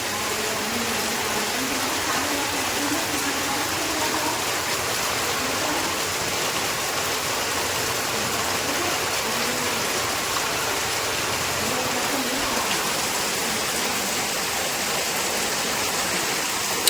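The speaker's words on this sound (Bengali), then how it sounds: "প্রচুর পানি পড়ছে" Heavy morning rain pours down in a steady, dense hiss of falling water, loud and continuous throughout with no talk over it.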